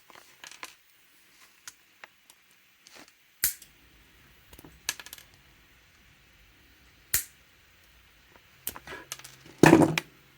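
Plastic pedestals being trimmed off a part of the Magneto V1.2 battle robot kit, heard as sparse sharp snips and clicks spread across a quiet stretch, with a louder snap near the end.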